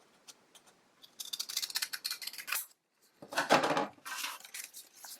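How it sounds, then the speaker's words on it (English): Metal scissors cut through folded paper cards along the fold, close and quiet, with two bursts of crisp snipping and slicing separated by a brief pause. "we're going to cut along that fold."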